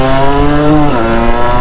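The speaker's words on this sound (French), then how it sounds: "le ralenti il est assez bas comme vous l'entendez" Derbi X-Treme Limited 50cc motorcycle engine idling low and steady, a loud close buzzing drone with strong harmonics and a slight pitch dip midway, no talking.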